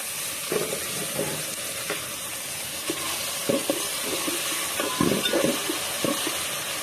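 Chopped tomato sizzles and fries in a pan for kunde, a steady hiss with occasional stirring scrapes and soft clatters, close and continuous with no talking.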